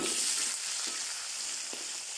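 Onions sizzle and fry steadily in hot oil in a pan while a traditional fish and moringa curry is cooked, with a bright continuous hiss and a few soft stirring knocks. No one speaks.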